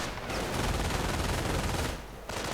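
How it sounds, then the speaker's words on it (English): Machine gun fire rattles in a World War II strategy video game, a dense, loud stretch of rapid overlapping shots that continues almost without a break. "Engineers running into MG fire right here from the house."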